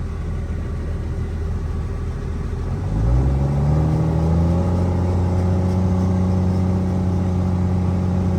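A 1700 horsepower Cummins diesel truck driving while loaded with about 10,000 pounds, a loud deep engine rumble that builds as the truck accelerates, the droning pitch climbing and then holding steady.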